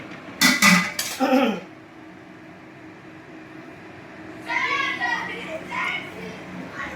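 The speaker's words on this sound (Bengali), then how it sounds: "ছেলেগুলো দেখছেন কি জোরে জোরে খেলা করছে, চেঁচামেচি করছে" Children shouting and playing at a distance, in two bursts of excited voices with a quieter stretch of background noise between them.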